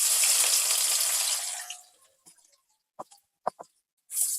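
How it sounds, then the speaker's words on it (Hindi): Sliced onions drop into half a cup of hot oil for a Lahori kofta curry, setting off a loud, hissing sizzle that fades within about two seconds. A few soft clicks and taps follow. "ऑयल मैंने पहले से गर्म किया हुआ है आधा कप, और प्याज इसमें शामिल करेंगे।"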